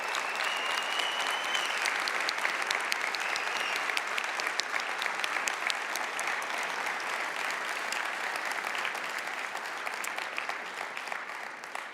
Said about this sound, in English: So can I ask that they please stand up so that we can give you a round of applause?